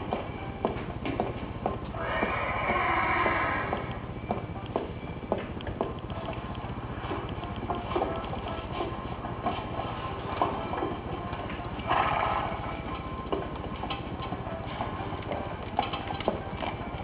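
A horse in the game Alexandra Ledermann 4 whinnies twice, with steady clip-clop hoof steps and stable clatter running throughout at moderate loudness.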